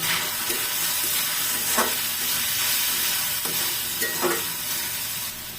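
Prawns and a half teaspoon of cumin powder being stirred in a frying pan: a steady, loud sizzle runs throughout, with the spatula scraping rhythmically through it several times, close up and with no voices.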